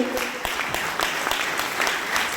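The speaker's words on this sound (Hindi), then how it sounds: "जोरदार तालियां हो जाएं आप सबके लिए।" Hearty audience applause at a motivational training seminar, a brief dense burst of many hands clapping together at an even, lively pace.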